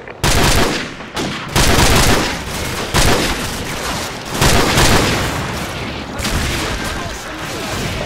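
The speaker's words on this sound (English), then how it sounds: "They're targeting our position with mortars." Mortar and gunfire battle in Call of Duty 4: Modern Warfare, with repeated loud broadband blasts and rolling bursts over a constant dense roar of combat, strongest near the start and around the middle.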